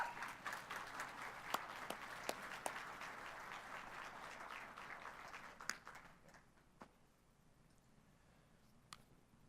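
An audience at an Indigenous speaker event applauds loudly and continuously for about six seconds. The clapping then thins to a few scattered claps and fades into a quiet room.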